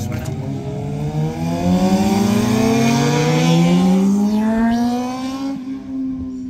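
Motorcycles ride off along a mountain route near Madrid, engines revving loudly with steadily rising pitch as they accelerate away, the sound holding strong before thinning out at the end.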